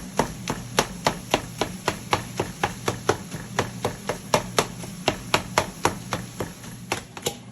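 A chopped meat crusher breaks up Johnsonville sweet sausage for Italian Thanksgiving stuffing, making a steady series of about two dozen sharp, close tapping chops at an even rhythm, alone with faint background hum.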